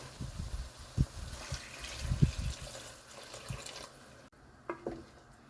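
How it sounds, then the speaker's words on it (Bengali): Water poured into a pan of curry (spiced gourd) to make gravy, with a few splashy low pours and gurgles near the mic, then faint drips at the end; no talking. "কষানোটা হয়ে গেছে এখন ঝোলের জন্য একটু পানি দেওয়া দিই"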